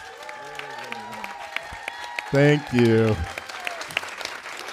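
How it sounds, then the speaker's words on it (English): Audience applause during a cast reaction session, with scattered clapping beneath conversation and a short burst of whooping cheers midway before people talk again. "Round of applause for Jason."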